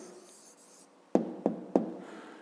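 Handwriting an answer in a maths exercise, a faint scratch is followed by three sharp, evenly spaced taps of the pen or chalk on the surface, close and crisp.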